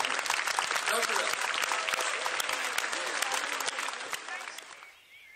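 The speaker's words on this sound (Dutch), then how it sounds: "Dames en heren, applaus voor de lopers van Oude Pekela" A crowd in Groningen applauds runners from Oude Pekela who carried the liberation fire from Wageningen, steady dense clapping with some voices mixed in, then quickly dying away at the end.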